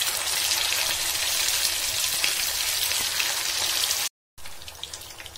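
Fish fillets sizzle in hot oil in a pan, a dense, steady crackling hiss that holds loud and close, breaks off briefly near the end, then resumes with no talk.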